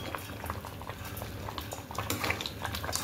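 Mango pachadi sweetened with jaggery bubbling steadily in a pan, a close, continuous simmer with soft popping bursts and occasional light clinks, no voices.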